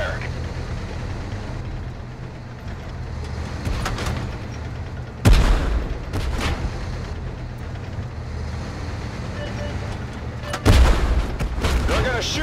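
Tank cannon fire in the video game Tank Force: two heavy, sharp blasts several seconds apart, each rising loudly out of a continuous rumbling engine and battle background.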